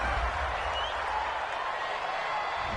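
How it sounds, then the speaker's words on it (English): A home football crowd at a Ravens–Steelers game cheers a penalty flag call, producing a broad, steady roar of applause and crowd noise that stays constant and fairly distant throughout. "This home crowd, they're happy with that call."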